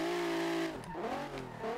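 A car engine in the driving game SLRR, set up with drift suspension, holds a loud steady rev, then dips and swings in pitch, with a brief tyre squeal mixed in.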